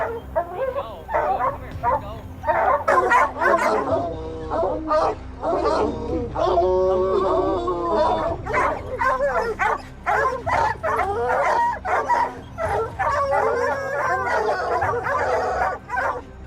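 Bear-hunting hounds barking, yipping and whimpering in rapid, overlapping bursts, close and fairly loud throughout, with a narrating voice talking over them.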